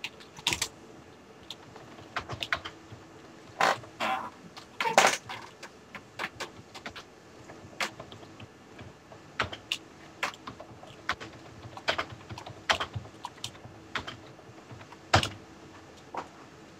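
Keys on a computer keyboard clack in irregular bursts, close and fairly quiet, with scattered louder taps and short pauses between runs of typing.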